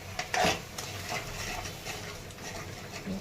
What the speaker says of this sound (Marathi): छान मिक्स करून घ्यायचे मसाला छान परतून घ्यायचा आहे